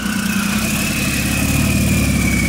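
A Porsche 911 fitted with a sport exhaust idles steadily and close, a low engine drone with a constant rumble and a faint whine above it. The sound holds even throughout and nobody speaks.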